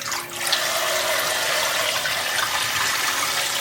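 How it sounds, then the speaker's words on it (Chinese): Tap water pours steadily over pork ribs being rinsed, a continuous bright splashing rush with no talking. "然后用清水多冲洗几遍。"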